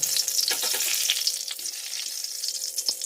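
Two bay leaves sizzle and crackle loudly in hot oil in a home kitchen pan, a steady bright frying hiss with scattered pops and a few scraping clicks, close and without talk.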